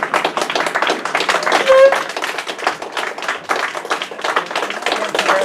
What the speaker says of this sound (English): I would like everybody to stand and give them a round of applause.